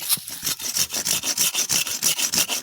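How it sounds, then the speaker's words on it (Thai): Fast, steady back-and-forth strokes of a hand saw rasping through bamboo side branches, close and loud, about a dozen strokes in a regular rhythm. "แขนงข้างต้องเลื่อยออกด้วย"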